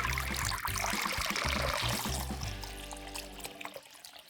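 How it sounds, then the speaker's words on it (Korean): Salted cucumbers are swished around in cold water, with soft splashing and trickling over a low, uneven rumble. The sound is fairly quiet and close, and it fades toward the end. "절여진 오이를 찬물에 2~3번 정도 헹궈주세요."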